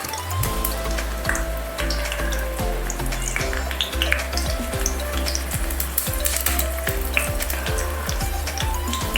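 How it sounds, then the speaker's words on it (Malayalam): Small shallots frying in hot coconut oil in a pan, a loud, steady sizzle with crackling pops and the scrape of stirring throughout. "ഉള്ളി വറുത്തിടുക, കാച്ചിടുക"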